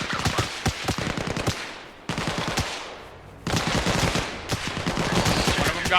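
Bursts of machine gun cover fire from a 240 in a tree-line firefight in Arma Reforger, rapid rattling volleys in three loud stretches with brief gaps and no talk.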